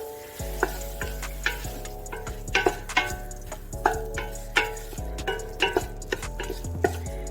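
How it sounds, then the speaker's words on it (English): Tomatoes sauté in a pan with a steady sizzling hiss, punctuated by rhythmic stirring taps and clinks against the pan, while a musical tone runs underneath throughout. "so then I added my tomato, and I'm just going to saute for about another minute."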